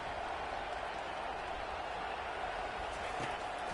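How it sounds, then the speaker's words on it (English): A football stadium crowd roars in a steady, dense wash of cheering and clapping to urge on the defense during a TCU game. The noise is distant yet continuous and does not let up. "here comes the noise. This crowd is trying to inspire this defense to make a big red zone stop."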